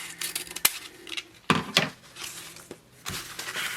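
Scissors snip the ribbon ends of a decorative Christmas bow: a few sharp, close cuts with rustling and handling of ribbon between them, no voice.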